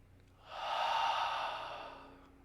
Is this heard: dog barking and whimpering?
no